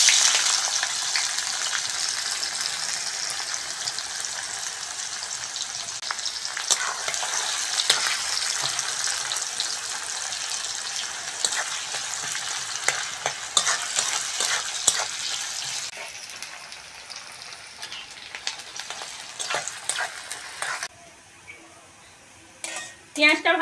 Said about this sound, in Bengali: ওই তেলের মধ্যে কুচনো পেঁয়াজ দিয়ে দেবো।